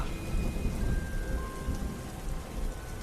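Cartoon storm ambience during a Bengali horror cartoon: steady heavy rain roaring continuously with low rumbling thunder underneath, loud and unbroken for the whole stretch, with no voices.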